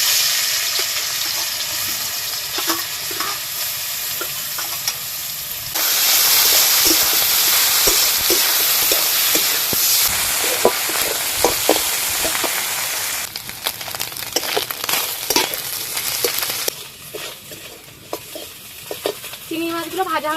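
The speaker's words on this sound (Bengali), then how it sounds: "এবার আগে থেকে কেটে রাখা হলুদ লবণ মাখানো চিংড়ি মাছগুলো ভেজে নেব।" Turmeric-and-salt-coated shrimp frying in hot oil in a wok, a loud steady sizzle that flares louder as they go in, with spatula scrapes and clacks stirring them throughout.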